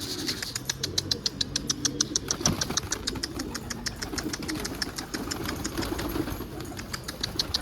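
Racing pigeons flutter and land in a garden loft, with quick repeated wing claps and soft cooing under a low engine hum, fairly close by.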